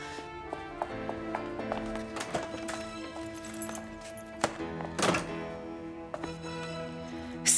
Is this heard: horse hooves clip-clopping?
yes